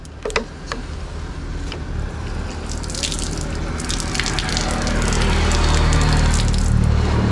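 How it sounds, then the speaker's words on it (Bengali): Tap water runs steadily over an apple being rinsed by hand, a continuous splashing stream that builds slightly louder, with a few clinks near the start. "দেন এই যে আপেলটা ধুয়ে দিতেছি, আপেলটা ধুয়ে নেন।"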